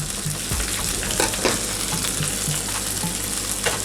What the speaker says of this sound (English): So I'm going to saute that for a bit and then add my shrimp.